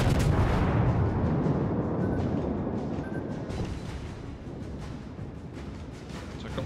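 Warship secondary guns firing during a World of Warships naval battle, a dense, continuous rumble of overlapping booms and blasts, loudest at the start and staying heavy throughout without a break.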